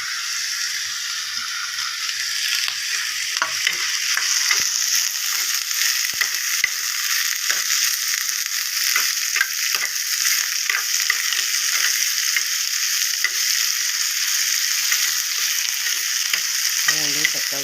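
Ridge gourd, onion, garlic, tomato and curry leaves sautéing in a pan for chutney, a loud, steady hissing sizzle dotted with clicking spatula taps and stirring, with no talk.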